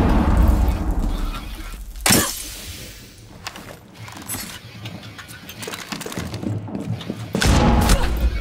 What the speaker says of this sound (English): Oh, oof. I dropped a flashbang.